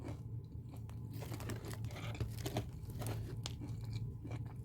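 Close, soft crunching and chewing of a crunchy homemade burger, with repeated bites and mastication sounds over a low background hum and no talking.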